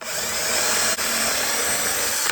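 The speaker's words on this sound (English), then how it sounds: "So I'm using a 9/32 drill bit." A power drill with a 9/32 bit bores a hole into a wooden beehive box, giving a steady, loud whine that runs close and continuous with one brief dip.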